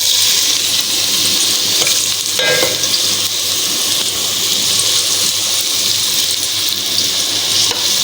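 Pumpkin pieces frying in hot oil for halwa give a loud, steady sizzle with bubbling and occasional stirring scrapes throughout.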